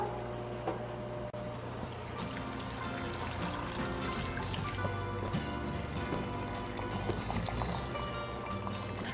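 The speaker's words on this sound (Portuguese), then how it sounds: "Eu já estou adicionando a água fervente." Boiling water poured into a pressure cooker while cooking beef: a steady, continuous splashing pour close by, with bubbling and trickling liquid throughout.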